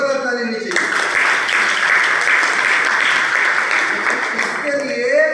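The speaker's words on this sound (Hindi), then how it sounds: "एक जोरदार ताली होनी चाहिए।" A hall full of people at a DXN marketing meeting in Boisar bursts into loud, sustained applause that fills the space for several seconds, with a speaker's voice just before and after.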